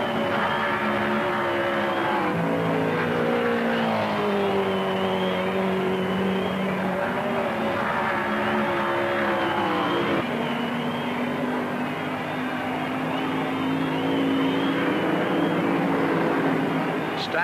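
NASCAR stock cars race in the 1976 Winston 500, their engines droning in a continuous roar with rising and falling pitch as the pack runs together, steady and sustained throughout.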